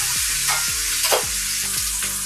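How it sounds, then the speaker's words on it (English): Steak frying in a pan with butter, thyme and rosemary: a loud, steady sizzle runs throughout, with periodic scraping stirs or basting strokes every half second or so, close up and with no voices. "that I've been cooking the steak, so it's starting to get a nice, crisp, beautiful caramelization on both sides of the steak"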